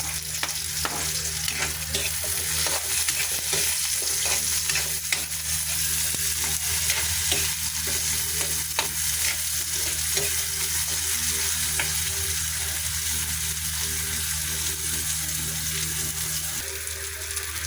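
Ginger and onion sautéing in a pan for coconut-milk mackerel, a steady close sizzle with stirring scrapes running throughout, no talking.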